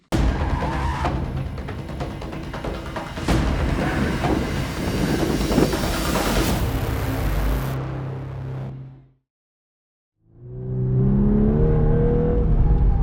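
A Volkswagen Golf R at speed on the Motopark track makes a loud, continuous rush of engine and road noise. It fades to a second or so of near-silence, then the engine returns with a rising, tonal drone.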